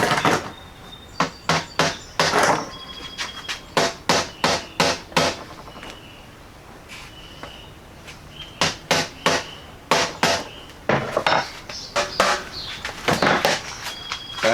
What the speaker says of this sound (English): I need a little tappy tap.